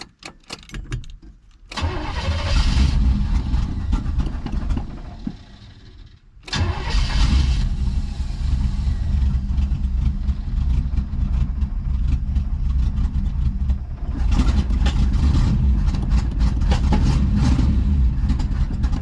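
A 1975 Chevrolet El Camino, suspected of flooding or a vacuum leak, cranks loudly on its starter in long, labored bursts separated by brief pauses, with no clean catch to idle.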